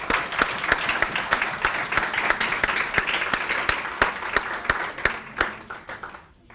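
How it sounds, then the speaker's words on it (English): Audience applause at a 2013 youth platform award ceremony, steady crowd clapping with sharp individual claps standing out, sustained for several seconds before tapering off at the end. "So please give them all a round of applause,"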